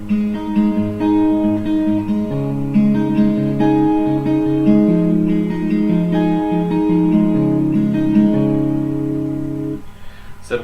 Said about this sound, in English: So the beginning of the song sounds like this.